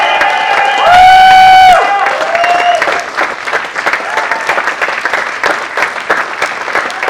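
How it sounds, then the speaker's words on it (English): An audience breaks into steady applause with some cheering, loud and close, while a sustained electronic tone rings over the clapping at the start. "Let's give Katrina another round of applause."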